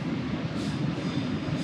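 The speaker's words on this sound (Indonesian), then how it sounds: "Tapi kayaknya sih itu kereta komuter lain yang ke arah Surabaya sih kayaknya ya" A commuter train heading toward Surabaya rumbles past close by with a continuous low roar and rolling rail noise, steady throughout and without voices.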